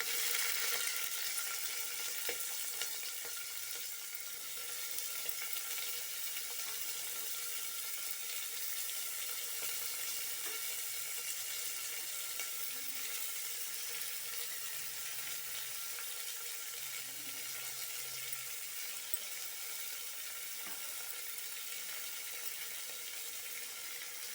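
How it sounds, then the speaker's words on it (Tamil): Steady frying sizzle of onions cooking in oil at close range, a continuous hiss with faint clinks and stirring underneath and no talking. "வெங்காயம் நல்லா வதங்கிட்டேன்"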